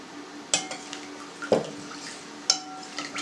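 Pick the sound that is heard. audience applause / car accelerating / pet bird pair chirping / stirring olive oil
stirring olive oil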